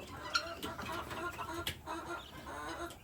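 Four young guinea fowl chirp and peep in thin, scattered calls at moderate distance, with soft rustling and low farmyard background noise.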